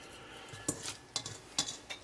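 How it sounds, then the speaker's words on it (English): Shredded cabbage pushed into an old glass spaghetti sauce jar, with four quick clinks and knocks of a utensil against the glass over faint background hiss, close up and fairly quiet. "So we're just going to shove it in the spaghetti sauce jar."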